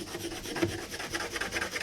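Soft, scratchy rubbing strokes repeat steadily as a pencil marks a hard plastic surface, quiet and close.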